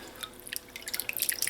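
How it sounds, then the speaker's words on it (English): Tap water splashes and drips while a piece of conch is rinsed clean, a quiet run of small irregular droplets and trickles that grows busier toward the end. "I'm going to rinse this out with some clean tap water"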